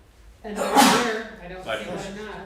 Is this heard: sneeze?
yes